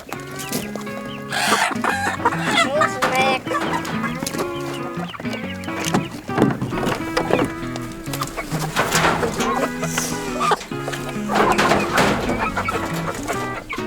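Chickens cluck and squawk in and around a coop, a busy overlapping chorus of near calls with occasional louder bursts throughout.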